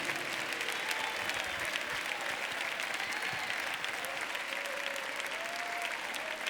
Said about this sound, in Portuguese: Com as mãos levantadas, recebemos o nosso pastor Lorival de Almeida, com esse aplauso para Jesus.